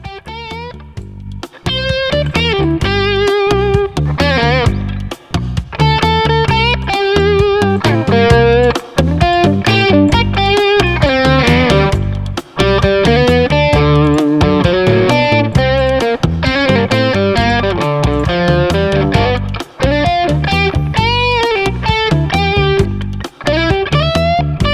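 Heavily distorted electric guitar chords and riffs recorded directly from the amp cabinet play loud and continuous, thick and saturated with steady rhythmic strumming and brief gaps.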